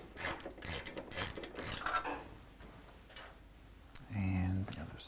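A ratchet wrench works bolts loose on a 2010 Harley Davidson FLTRX, quick close clicking bursts early on and a louder whirring spin near the end, with someone talking in between.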